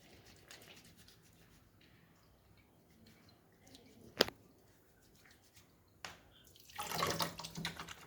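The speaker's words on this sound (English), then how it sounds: "We will try to get it out and try to wash this soap with our hands." Hands are washed with homemade soap under water, with faint trickling and rubbing at a distance, a sharp splash near the middle and a louder burst of running water toward the end.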